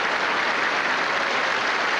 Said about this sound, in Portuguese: Aplaudido no plenário do Congresso Nacional